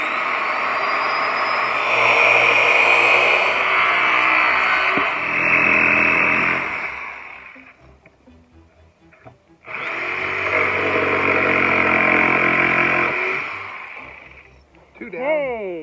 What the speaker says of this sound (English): Mark's gonna cut our notches and our end angles